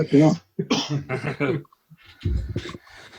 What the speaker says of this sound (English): I apologise now for my coughing.